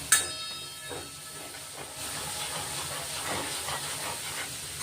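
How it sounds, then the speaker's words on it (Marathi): Spice masala with curry leaves and green chillies roasting in a pan for a drumstick curry, a sharp hiss at the start that settles into a steady close sizzle with faint stirring. "मस्त भाजून घेणार आहेत आपण हा मसाला आता."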